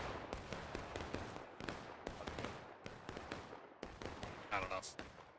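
Distant musket fire in the Civil War game War of Rights: a steady string of sharp, far-off shots cracking in irregular succession, several echoing volleys overlapping across the battlefield.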